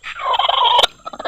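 Turkey gobbles once in a quick, loud, wavering burst, followed by a short trailing series of softer clucks.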